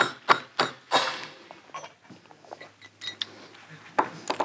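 Sharp metallic taps of a hammer driving a retaining pin into a Retay Inertia Plus shotgun bolt, several distinct close strikes spaced irregularly over a quiet background.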